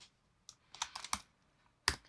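Keystrokes on a computer keyboard during T-shirt design work in Adobe Illustrator: a handful of sharp clicks in an uneven burst, then a pause and one louder final tap, close and alone.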